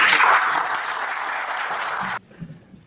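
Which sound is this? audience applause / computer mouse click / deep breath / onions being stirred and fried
audience applause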